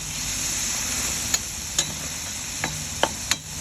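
Browned ground meat with oyster sauce and seasoning is stirred in a hot pan, a steady low sizzle running throughout with a few sharp scrapes and taps of the spatula against the pan, and no voices.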